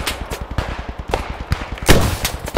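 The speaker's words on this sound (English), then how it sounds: "Some sort of MG." Rapid machine gun fire from Squad 44 rattles in steady close bursts, loud and rhythmic, with a louder blast near the end.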